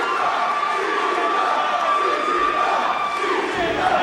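A large crowd at a CZW Best of the Best professional wrestling event roars and cheers continuously for the champion, a dense, loud sustained wall of voices and whoops with no pause.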